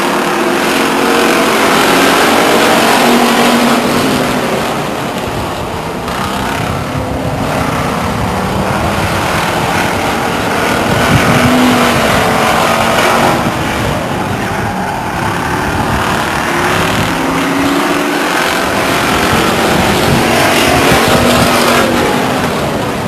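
Stock cars racing at Stockton 99 Speedway, a loud, continuous roar of several engines close by, rising and falling as the pack passes, with revving swells throughout.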